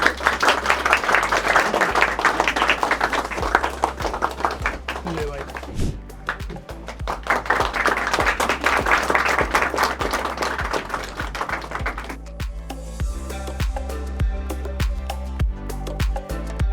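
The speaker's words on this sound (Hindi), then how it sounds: "तो सभी लोगों को एक बार बहुत ज़्यादा ज़ोरदार तालियां हो जाए भाई।" An indoor audience at a publishing company's celebration breaks into sustained, dense and loud clapping that carries on continuously over a low, thumping musical beat, with some voices mixed in.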